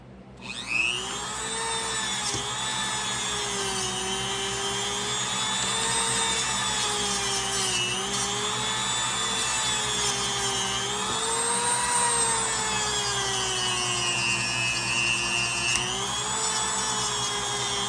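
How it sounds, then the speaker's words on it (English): A Dremel rotary tool grinds rust off a fish knife, giving a continuous high-pitched whine whose pitch wavers as pressure shifts, close and steady without speech. "All I'm really doing here is just working this Dremel across all this rust"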